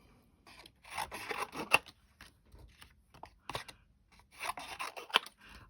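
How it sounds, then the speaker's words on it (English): Scissors fussy cutting around stamped paper images for a junk journal cluster, giving close, quiet bursts of snipping and rustling paper with short pauses between cuts. "I will fussy cut one"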